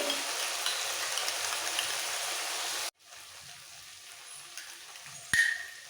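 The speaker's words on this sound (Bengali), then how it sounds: "ভালো করে মশলাটা কষাতে কষাতে দিয়ে দিতে হবে" Spice paste for a raw-banana kofta curry sizzles steadily in a pan for about three seconds, then drops to a much quieter, sparse crackle with a brief sharp clink near the end.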